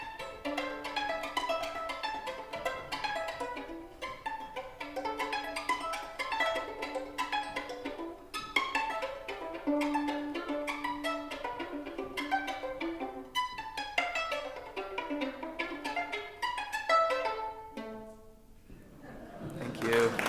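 Solo violin playing a lively passage mixing bowed notes with sharp left-hand pizzicato plucks, steady and close, ending in a brief scrape.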